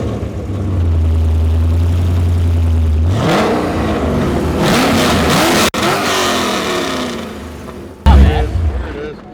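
A Chevrolet Corvette Z06 engine holds a loud, steady high idle up close, then revs and settles, with people talking over it and a sudden burst near the end.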